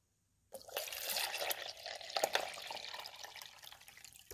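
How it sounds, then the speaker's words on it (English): Water is poured into the reservoir of a Mainstays 5-cup coffee maker, starting after a brief silence as a close, steady gurgling fill with splashes and drips. "So we want to pour our water in."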